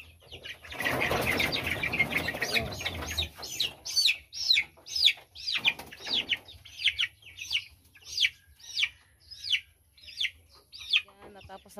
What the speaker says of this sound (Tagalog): Natapos na pala si Junjun naglagay ng palatandaan sa mga sisiw